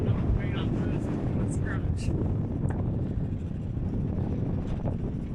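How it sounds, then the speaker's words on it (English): Wind blows outdoors on a breezy day, a steady rushing buffet on the microphone throughout, with faint voices underneath. "I know, it's a bit breezy, isn't it?"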